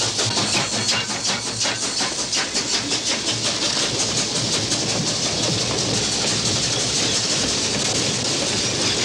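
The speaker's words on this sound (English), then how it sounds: "the train thunders by" A train thunders past on the rails, loud and close, with a rapid rhythmic clickety-clack of wheels over the joints under a steady roar that holds for the whole stretch.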